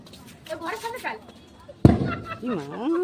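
A single sharp firecracker bang cuts through lively voices at a family Kartik celebration at a house, with people chattering before and after the crack.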